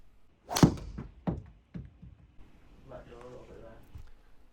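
A golf driver strikes a ball with a sharp, loud thwack, followed by a few fainter thuds and a voice talking quietly afterward.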